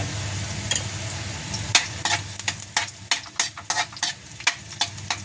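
Garlic sautés in a hot pan with a steady close hiss, while a spatula scrapes and knocks in quick irregular strokes that grow busier toward the end.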